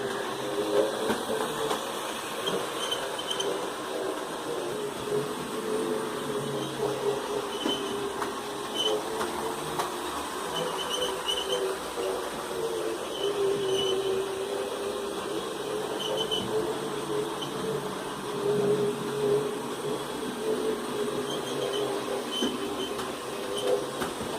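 A Hornby Class 20 model locomotive runs around its track at reduced speed, giving a steady, moderately quiet whirring motor hum with faint wheel rattle and light squeal throughout.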